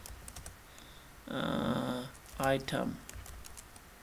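Keys on a computer keyboard tap out text in a brisk run of crisp, close clicks, with a voice speaking in between the bursts of typing.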